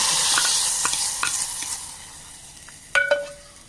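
Dried fish curry with raw plantain and mango is stirred in a pan, giving a fading hiss of sizzling and repeated soft scraping strokes, then a sharper clink of the utensil near the end; nobody speaks.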